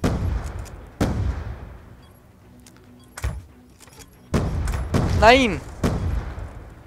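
Gunfire in Call of Duty: Black Ops 2 comes as several sharp, separate shots, one near the start and more bursts later, mixed with other game effects, while a player speaks briefly.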